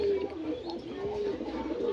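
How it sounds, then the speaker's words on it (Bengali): Several kinds of pigeons coo close by, a low repeated throaty warble running continuously with faint background rustle. "বিভিন্ন রকমের পায়রা আছে"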